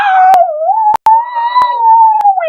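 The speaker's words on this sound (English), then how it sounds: "The dogs began to bark, woof, woof, woof." A single dog howls in a long, close, wavering tone, broken by a few sharp clicks, loud and on its own.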